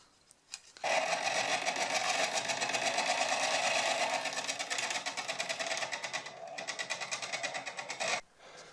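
Steady high-pitched grinding whine on a bench grinder as the iron of a wooden skew rebate plane is rough ground, loud and continuous for several seconds with short pulsing passes before stopping abruptly.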